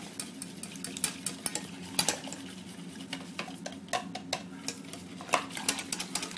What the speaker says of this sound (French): il ne faut pas lâcher sa casserole et remuer jusqu'à l'ébullition